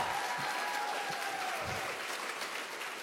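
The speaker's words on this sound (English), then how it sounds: "Can we get a round of applause for Denyse?" A room claps for Denyse at a women-in-tech gathering, a soft, even wash of applause that stays fairly quiet and continuous throughout, with a faint voice briefly audible.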